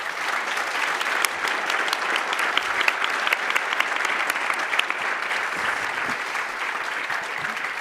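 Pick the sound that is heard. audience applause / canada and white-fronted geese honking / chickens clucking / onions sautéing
audience applause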